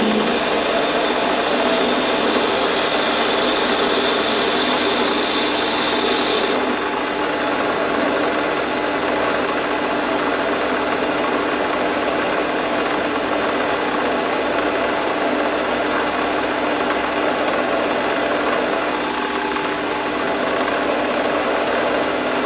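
A Warco lathe runs steadily while a 5mm drill bores a hole, producing a loud continuous motor whine and cutting noise with a slight change in tone partway through and no talking.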